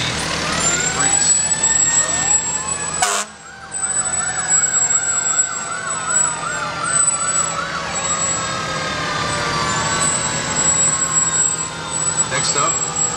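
A 2003 Pierce heavy rescue fire truck passes in a parade with its siren wailing loudly and continuously, engine rumble underneath and a crowd's voices mixed in, close and sustained.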